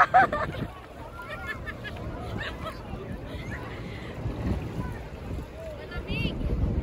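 Waves stirred up by a passing motorboat splash and wash around a swimmer in open water, with gusts of wind on the microphone and a voice talking over the choppy water.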